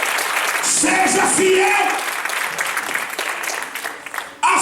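Church congregation clapping loudly through most of the stretch while a preacher's voice speaks over it, the applause thinning out near the end before a brief renewed burst.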